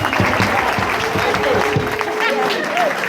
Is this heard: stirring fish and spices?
no